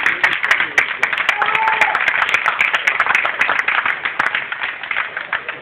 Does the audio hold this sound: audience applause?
yes